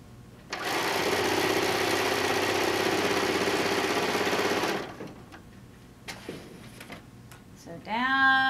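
A sewing machine stitches down a quilt border in one loud, steady whirring run of about four seconds, followed by quieter handling clicks and a brief rising mechanical whine at the end.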